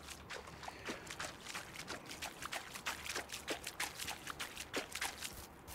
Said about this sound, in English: let us get to the water, wash ourselves, and have a little drink of fresh river water